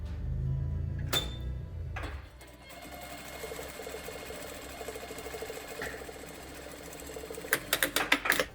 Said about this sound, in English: we're going to sew the curve on our filter piece